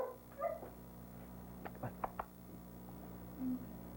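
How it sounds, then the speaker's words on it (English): A dog at an adoption shelter gives a few short, soft barks and yips close by over a steady low hum, with one brief whine near the end. "he's a really nice dog"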